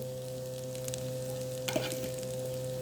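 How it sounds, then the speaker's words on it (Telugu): Raw banana pieces frying in a pan with ginger-garlic paste, giving a steady close sizzle with a brief clatter of stirring partway through. "కట్ చేసి పెట్టుకున్న అరటికాయ ముక్కలు యాడ్ చేసుకొని ఫ్రై చేసుకోవాలి"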